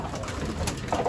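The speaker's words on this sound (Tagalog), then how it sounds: "Kinikilati sila mga ibon ni Boss John Alegre." Pigeons in a racing pigeon loft during a loft visit, a steady low cooing and soft bird murmur filling the short stretch at a constant moderate level, with no talk over it.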